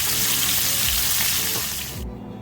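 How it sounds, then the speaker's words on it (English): Loud, dense sizzling and crackling of fish slices frying in hot oil, continuous and close, cutting off abruptly near the end. "The fish is all cooked up, it's all fried up."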